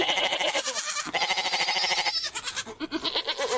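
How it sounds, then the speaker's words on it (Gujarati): A goat bleats in a continuous, wavering, loud cry that fills the whole stretch, dense and harsh with a tremulous quality, heard alone without talk. "બકરી"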